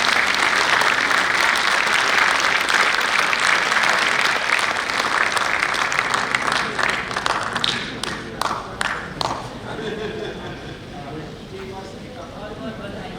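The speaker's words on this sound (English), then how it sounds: "Can we please have a huge round of applause" Audience applause at a conference session on health care and nutrition, loud dense clapping that thins into scattered individual claps and fades toward the end.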